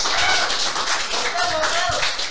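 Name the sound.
audience clapping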